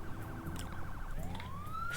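Ambulance siren in the Emergency 4 video game arriving at City Hall, a fast warbling wail that shifts into a rising sweeping tone, steady and fairly close.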